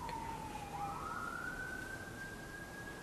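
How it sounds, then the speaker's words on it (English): A siren outside wails far off, one long steady tone that dips and then climbs slowly, faint against a broad hiss of background noise, with no speech. "I was right, I did hear a siren."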